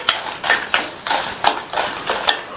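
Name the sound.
dried red chillies frying in oil in a pan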